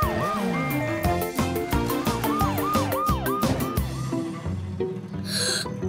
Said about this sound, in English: Ash, Scout, sirens on!